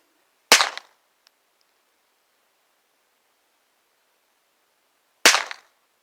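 Two loud, sharp gunshots from target practice at 100 yards, about five seconds apart, each with a short decaying tail over near silence.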